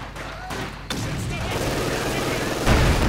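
Gunfire and field gun blasts from the WWII strategy game Company of Heroes 2, a dense continuous battle din with booming impacts, louder near the end, under someone speaking in German.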